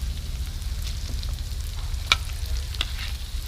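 Ham stir-fried with holy basil in a pan gives a steady low sizzle and stirring, with a few sharp utensil clicks scraping the pan near the middle.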